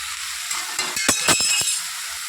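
Vegetables stirred hurriedly in a frying pan, a soft sizzle broken by several quick clinks and scrapes of a utensil against the pan, close and fairly loud.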